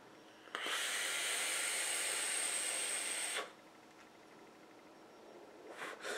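An e-cigarette atomizer hisses steadily as a long puff is drawn, a close breathy vapor rush lasting about three seconds before cutting off into quiet room tone, with no talk.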